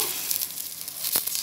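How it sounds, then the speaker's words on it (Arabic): Washed rice poured into hot oil with browned vermicelli gives a steady close sizzle with a brief louder crackling burst near the end, with no voices. "هنزل بقى انا في الوقت ده بالرز بتاعي اللي انا غسلاه طبعا"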